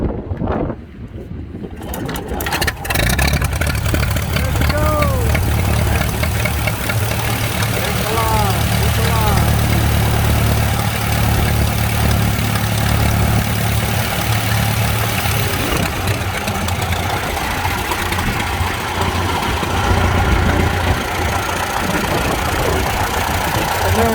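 Antique engine at a Florida engine and tractor show, cranked over on a battery, then runs with a steady low rumble and regular knocking beat close by, loud throughout, with a person talking over it.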